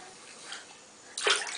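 A small child splashes water in a bathtub, soft sloshing at first and then a louder, sudden burst of splashing near the end.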